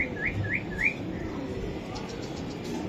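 Pakistani flying pigeons give four quick, rising chirped calls in a row at the start, then fall quiet. Faint rustling and low background noise follow.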